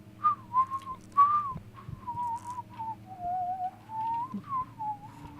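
A person whistles a slow, wavering tune alone, with several long held notes and brief pauses between phrases, over a steady low background hum during a tense horror game session.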